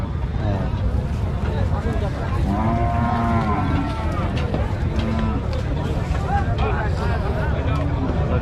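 Cattle lowing at a busy livestock market in Rajshahi, with several drawn-out moos rising over a steady crowd murmur and nearby people talking throughout.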